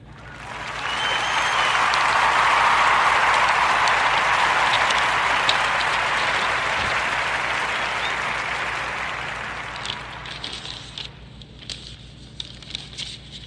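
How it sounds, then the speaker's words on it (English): Podcast audience applause for a guest speaker, a broad, full burst of many hands that swells quickly, holds for several seconds, then thins out into scattered claps and fades. "let's give a warm Narrator Podcast round of applause for our sister Ashley Robinson of Blue Institute"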